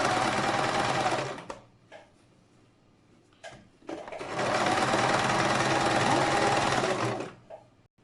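A sewing machine stitches a homemade hat in two loud, steady runs, the first about a second long and the second around three seconds, separated by quieter pauses with small handling knocks.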